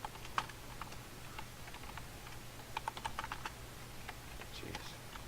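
Quiet, close tapping on a computer keyboard at one in the morning, irregular clusters of soft key clicks over faint room hum, with no talk.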